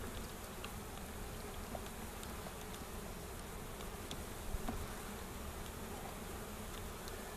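Dense, steady buzzing of many honeybees close by around an open hive during an inspection, a continuous hum with occasional individual bees flying past.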